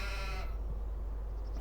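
Sheep grazing in a field give a single short bleat up close, cutting off abruptly and leaving a low steady rumble of outdoor wind or background noise.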